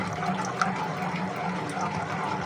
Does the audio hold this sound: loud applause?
no